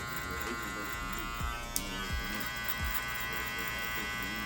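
A steady electric buzz of hair clippers cutting coarse, straight hair close by, with faint snips and low thumps, over a low hum.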